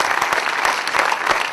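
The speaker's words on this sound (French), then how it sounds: "Vous pouvez les applaudir aussi." An audience applauds at a football-related gathering: dense, continuous clapping from a crowd, loud and close, with sharp individual claps standing out throughout.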